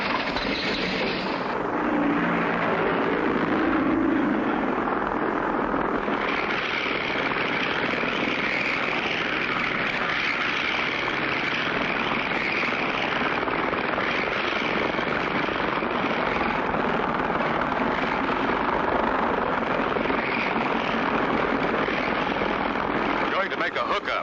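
A cartoon propeller plane's engine drones steadily and loudly for the whole stretch, a continuous buzzing roar with voices talking over it.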